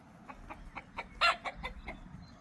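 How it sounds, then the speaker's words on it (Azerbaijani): Chickens clucking in a backyard coop at a rural house in Balakən, a run of short, soft clucks in a steady irregular rhythm at moderate distance, with one louder call in the middle and no talk. "toyuq ini var."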